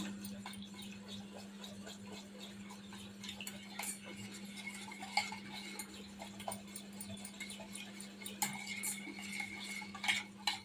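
Plum cake batter with vanilla essence being mixed in a bowl, a quiet run of rhythmic scraping and clinking of a spoon against the bowl over a steady low hum, with no talking.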